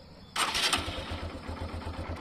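A Honda CB 125F Twister motorcycle engine with 20,000 km cranks and catches, then settles into a steady, throbbing idle close by.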